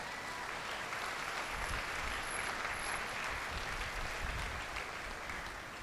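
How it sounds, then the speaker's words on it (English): A graduation audience applauds a high school class of 2016, giving a sustained wash of many hands clapping at moderate distance, steady and even throughout with no speech over it. "Oh, you can applaud, sure."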